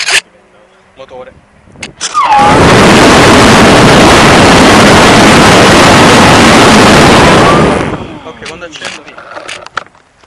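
A model airplane's electric motor spins up to a loud, steady whine and holds for several seconds before winding down, with quieter handling noises before and after.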